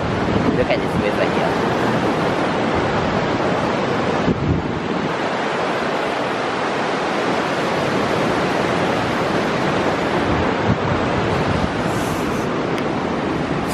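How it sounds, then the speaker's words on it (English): A river flowing in a park makes a dense, continuous rush of water. Wind buffets the microphone and keeps it steady and loud throughout. "Look at this river here."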